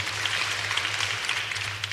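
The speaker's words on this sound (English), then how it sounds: "May we please clap for them as well." Audience clapping at a Kenyatta University public lecture, a dense steady wash of many hands applauding together throughout, with a low constant hum underneath.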